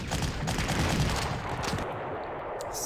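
Dense, continuous gunfire and artillery bursts fill a Panzer Corps wartime strategy game battle at the Maginot Line as a big gun is blown up, loud and sustained with no pauses.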